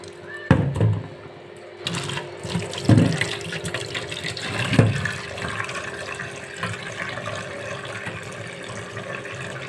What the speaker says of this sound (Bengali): ডালটা ভালো করে ধুয়ে নিচ্ছি